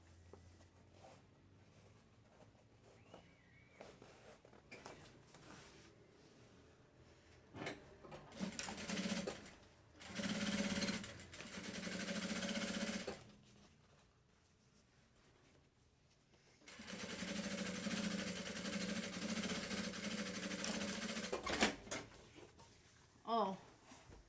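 Sewing machine topstitching a fabric party bag with the presser foot set half a centimetre in, running in two long loud bursts with quiet gaps between, with someone speaking before and between the runs.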